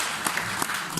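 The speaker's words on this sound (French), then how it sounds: "On applaudit Jean-Paul Mangarel" Applause breaks out for the winning buyer at an auction sale of TAG 50, son of IGOR: a brief, dense wash of clapping at moderate volume with a few sharper claps standing out.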